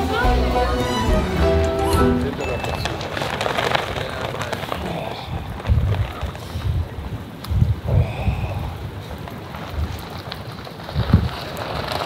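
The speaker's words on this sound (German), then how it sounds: "Und es ist verdammt windig" Strong gusting wind buffets the microphone at a snowy mountain viewpoint in freezing weather, a continuous broadband roar with rumbling low gusts throughout and a person talking over it.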